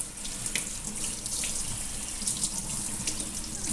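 Tap water rinsing off potted African violet plants, a steady close hiss of running water with splashy, uneven spatter as the stream hits leaves and soil, no voices.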